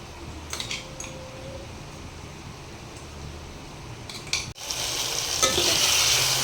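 Ginger garlic paste frying in a pan for misal, with metal utensil clinks and stirring scrapes at first, then a louder steady sizzle rising in the second half; no talking.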